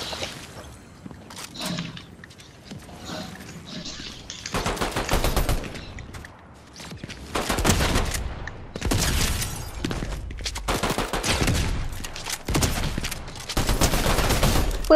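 Rapid automatic gunfire from a Fortnite match rattles out in several long bursts, loud and close, separated by short pauses, with quieter game effects in between.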